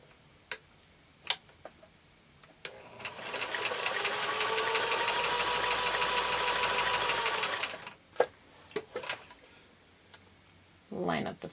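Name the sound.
sewing machine stitching quilt block pieces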